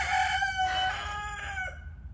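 A rooster crows once, loud and close, a long drawn-out call that trails off, with a low rumble of background noise beneath it.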